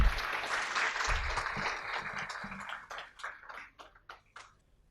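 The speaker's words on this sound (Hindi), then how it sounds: "गोविंद के लिए ज़ोरदार तालियां" Applause from an audience at a campus Hindi poetry event as a poet walks on stage, fairly full at first and then thinning into a few scattered claps before fading out.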